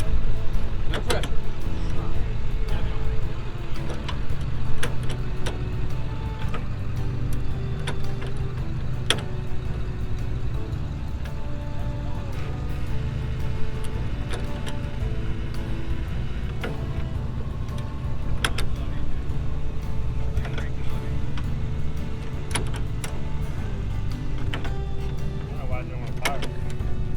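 A Ford Model T engine runs on its magneto at a car show, ticking over with a steady rapid chug under intermittent nearby talk and occasional sharp clicks.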